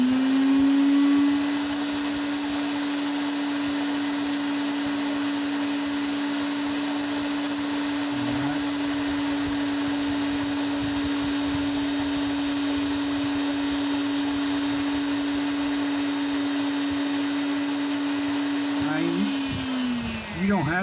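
A Chicago Electric rotary tool carving a face gives a steady high-pitched whine that runs throughout, with small pitch dips as it bites and a wind-down at the end, and speech is faint beneath it.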